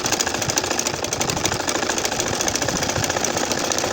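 A sewing machine stitches a nakshi kantha quilt with a loud, continuous, rapid mechanical chatter that holds a steady rhythm throughout.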